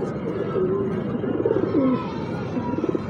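A golden pigeon of the Miyan Nazir bloodline coos in low, soft rolling phrases close by, repeating several times over faint background noise.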